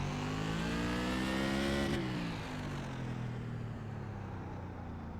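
A race car engine in iRacing holds a loud, high rev, then its pitch drops sharply as the driver lifts off and it settles into a lower, steady drone.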